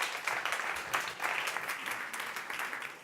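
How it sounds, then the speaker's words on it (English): An audience at the South Summit 2018 startup competition on the Sandbox Stage applauds as the next startup speaker comes up, with sustained, moderately distant clapping that swells and dips slightly. "Big applause to our next speaker,"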